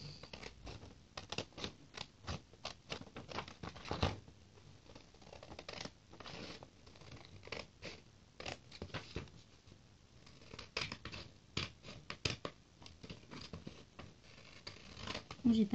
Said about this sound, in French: on va tout simplement découper